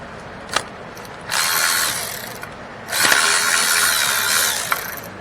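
A ratchet with a 13 mm socket turns the wheel cylinder bolts on a Dodge rear drum brake, giving two close bursts of rapid pawl clicking separated by a short pause.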